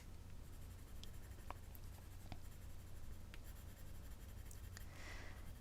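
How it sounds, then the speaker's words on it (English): A Crayola colored pencil shades lightly across paper in soft, continuous scratchy strokes, close and quiet, with a few faint ticks and no talking. "You can feel the pencil just glide across the paper."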